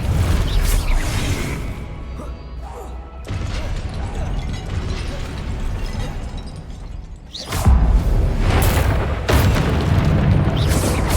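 Booming Confringo spell blasts in the Hogwarts Legacy game, loud heavy explosions with whooshing bursts and rumbling impacts across the clip, several distinct hits near the end.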